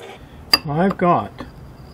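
A metal lid on a Royal Gourmet offset smoker swings shut with a sharp clank, followed by a squealing, wavering metallic creak and a faint knock, close by.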